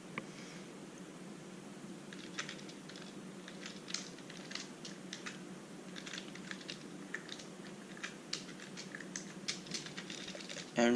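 Rapid clicking of a computer keyboard as a Python factorial program is typed, steady quiet keystrokes in irregular bursts close to the microphone.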